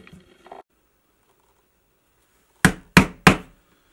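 Three sharp, loud strikes on a stitching chisel punch holes through a leather watch strap, evenly spaced and ringing briefly, after a few faint handling taps and a quiet pause.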